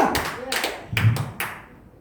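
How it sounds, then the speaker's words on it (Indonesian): A church congregation claps hands for God in four distinct, evenly spaced sharp claps that echo in the room, each followed by a fading tail. "tepuk tangan lagi buat Tuhan Allah kita"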